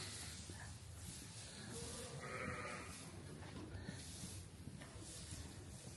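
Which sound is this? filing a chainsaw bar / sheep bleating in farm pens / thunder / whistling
sheep bleating in farm pens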